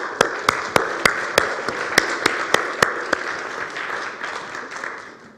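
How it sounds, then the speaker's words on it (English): A church congregation at Unity of Boulder claps in a steady, even rhythm, about three sharp beats per second over a soft crowd wash, slowing and thinning toward the end. "Yes, go ahead and clap."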